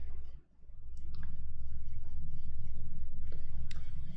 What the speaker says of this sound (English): So we see both players shuffling up